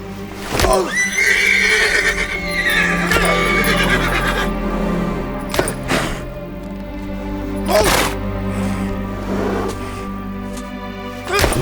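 A horse whinnies loudly and close, then snorts and shifts with hoof clops and a few more neighs, with no talk.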